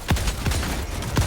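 Automaton enemies firing at a player in the video game Helldivers 2, with three sharp, loud shots spaced evenly over a little more than a second.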